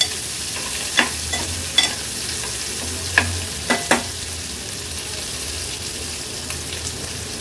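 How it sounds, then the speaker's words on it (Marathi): Finely chopped onion with asafoetida frying on a low gas flame, a gentle steady sizzle punctuated by several sharp clicks and scrapes of a spoon stirring in the pan, close up and without speech. "गॅसची फ्लेम लो करून कांदा आपल्याला व्यवस्थित शिजवून घ्यायचा आहे"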